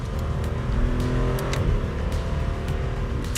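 A 2015 Aston Martin Vanquish's V12 engine, in a roughly 1739 kg car with carbon bodywork, revs in a deep, continuous roar. It stays loud and close throughout with no talk over it.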